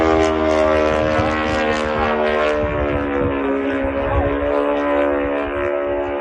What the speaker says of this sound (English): this kind of Shahed style Ukrainian drone, if you will, is on its way to attack Russia's Engels bomber airbase